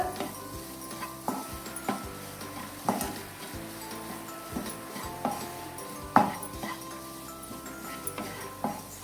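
Paneer momo filling being stirred with masala in a pan at home: soft sizzling under a spoon scraping and tapping against the pan in irregular strokes, with a sharper clank near the middle, no talking.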